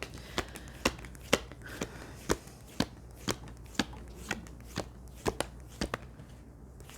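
Cards are shuffled for a reading, giving a steady series of crisp riffling snaps roughly every half second, close and fairly quiet with no talk.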